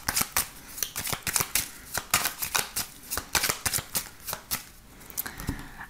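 A deck of 32 playing cards riffled and shuffled in quick, crisp bursts of flapping and snapping, steady and close, with no voices.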